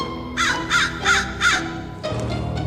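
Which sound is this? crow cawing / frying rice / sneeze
crow cawing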